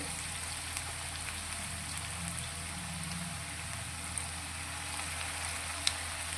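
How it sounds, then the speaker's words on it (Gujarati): A raw potato snack shallow-frying in a little oil makes a steady, even sizzle with a faint crackle and occasional small pops, heard alone with no voices. "આ રીતે સેલો ફ્રાય કરીશું એટલે ખૂબ જ ઓછા તેલમાં આપણો આ નાસ્તો તૈયાર થશે"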